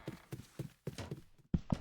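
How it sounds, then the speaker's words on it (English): Heavy footsteps thud from a bedroom in a Roblox horror game, a steady run of close, fairly loud steps in an uneven walking rhythm, the last two hitting hardest, with no voices. "you hear loud footsteps coming from the bedroom"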